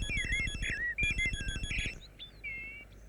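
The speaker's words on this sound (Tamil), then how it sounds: "ஃபோன் அடிக்குது" A telephone rings with a repeated electronic trill, loud and close, cutting off after about two seconds with a few fainter electronic chirps following; no one speaks.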